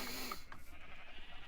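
Sheep in the video game Minecraft giving a short bleat, quiet and brief, set against a faint low background.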